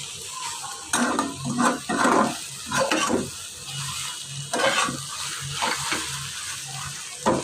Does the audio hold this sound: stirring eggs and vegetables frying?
yes